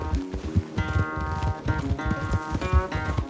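Horse galloping in the video game Red Dead Redemption 2 during a race, steady rhythmic hoofbeats close by over a sustained musical score.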